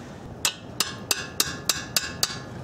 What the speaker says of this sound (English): just give it a quick tap with a heavy hammer